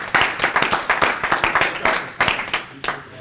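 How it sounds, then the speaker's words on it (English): An audience claps for a speaker at a real estate investing gathering, the clapping close and lively, with distinct individual hand claps standing out over the crowd's steady patter. "Y'all clap it up for Akeem, man."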